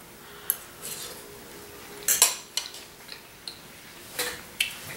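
Metal fork clinking against a baking dish while scooping a bite of baked macaroni and cheese with a caramelized, melted top and chipotle-spiced cheese sauce, giving a few light, close taps and scrapes with short pauses between them.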